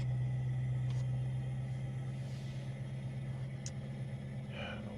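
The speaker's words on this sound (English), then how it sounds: "curious to see how this supercharged engine will sound with this new microphone" A supercharged car engine idles steadily with a low, constant rumble and hum that runs unbroken from start to finish, close and fairly loud, with no talking over it.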